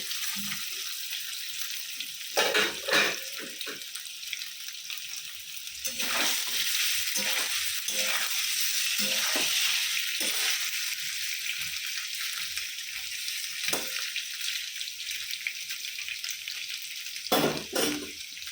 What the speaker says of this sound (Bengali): একটু পনিরটায় নুন দিয়ে দিচ্ছি, ভাজার সময় দিলে নুনটা ভালো ঢুকবে